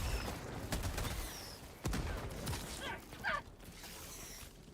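Autocannon gunfire in the video game Helldivers 2, with sharp shots and mechanical clatter over a busy game soundscape, some louder bursts standing out. No voices are heard.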